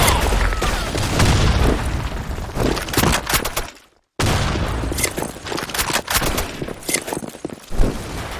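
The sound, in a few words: grenade explosion and gunfire in a video game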